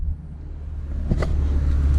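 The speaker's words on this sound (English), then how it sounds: "we're driving the 940 right now. It actually runs really good." Interior rumble of a Volvo 940 on the road, a low steady engine and road drone building slightly louder, with faint wind noise and no talk.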